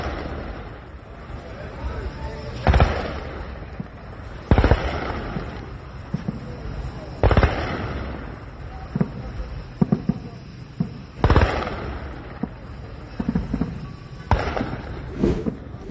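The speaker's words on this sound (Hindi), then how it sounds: "मशहद पर तो कई धमाके साफ सुनाई दिए हैं।" Explosions from night-time attacks on Mashhad and Tehran, Iran: about half a dozen sharp distant booms at irregular intervals over a constant background of voices.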